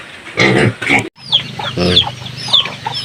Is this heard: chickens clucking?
yes